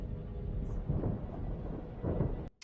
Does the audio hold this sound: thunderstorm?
yes